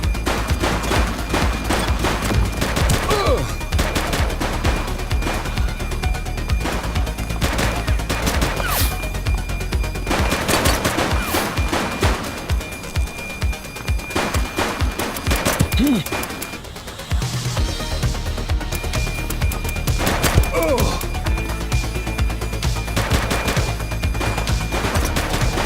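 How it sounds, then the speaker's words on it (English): Gunfire during a police shootout in The Precinct, with dense, loud bursts of shots and automatic fire continuing almost throughout alongside crashes and impacts, and brief shouted voices mixed in. "He's shooting!"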